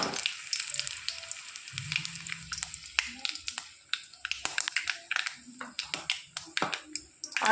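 Bay leaves, dry red chilli and Bengali five-spice hitting hot oil for a masoor dal tempering, giving crackling pops and sputtering bursts that rise into busy spitting, fairly close, with faint stirring taps.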